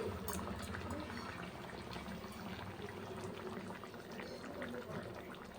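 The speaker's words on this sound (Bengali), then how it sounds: "এরকম মাছের ঝোলটা ফুটে গেছে" A Bengali fish curry (jhol) with puti fish simmers in a pot, giving a steady, dense bubbling hiss that runs throughout, with voices faintly present underneath.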